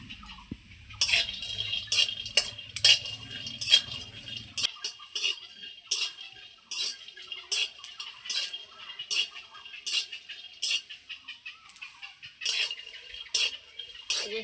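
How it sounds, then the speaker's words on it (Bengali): Peanuts dry-roasting in a pan while being stirred continuously: repeated sharp rattling and scraping strokes in an uneven rhythm, close and clear, with a low hum fading out early. "এই যে শুকনো খোলায় চীনা বাদামটা ভেজে নিচ্ছি।"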